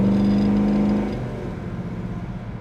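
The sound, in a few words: 1968 Chevrolet El Camino 350 engine accelerating while driving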